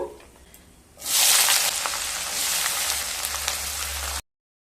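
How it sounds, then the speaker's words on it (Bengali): Three large chopped onions drop into hot oil scented with cardamom and burst into a loud, close sizzle after a quiet opening second, frying steadily until it cuts off abruptly. "কেটে রাখা তিনটে বড় সাইজের পেঁয়াজ দিয়ে দেব"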